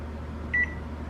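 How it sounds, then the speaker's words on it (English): Kitchen timer being set while chicken soup simmers for canning: a single short electronic beep, faint and close, over a steady low hum of room noise. "I think I'll set my timer for 30 minutes."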